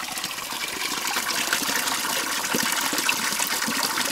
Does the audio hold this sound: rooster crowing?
no